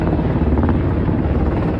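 A military helicopter flies over Seoul during an emergency martial law deployment, its rotor making a loud, steady, dense thumping roar throughout.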